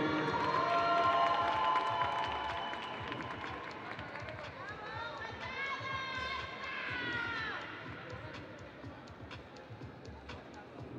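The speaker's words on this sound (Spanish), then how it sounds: "Que se suenen fuerte los aplausos" Cheering and applause rise from the crowd at a NABBA Mr Mexico bodybuilding contest title presentation, sustained and fairly distant, with an announcer speaking over the noise and whistles or shouts breaking through.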